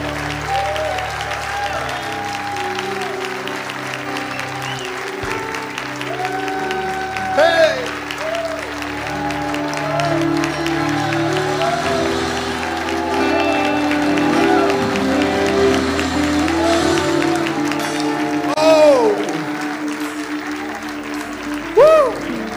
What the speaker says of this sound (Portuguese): Vocês podem dar um aplauso bem forte